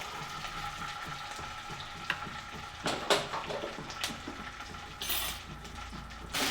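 Ginger garlic paste with asafoetida frying in oil over a low gas flame, a steady soft sizzle with occasional louder spatters and a brief bright hiss near the end, no voices.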